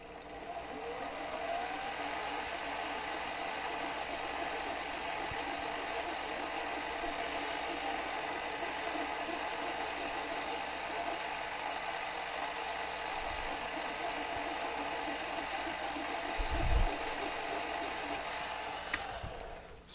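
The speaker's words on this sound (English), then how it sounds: "Now I'm going to cut my shoulder. And again, for that, I'm going to use my jeweler saw." A powered lathe runs with a steady mechanical hum and whine while a jeweler saw cuts the shoulder of a small pivot screw, a faint continuous drone with a few low thumps near the end.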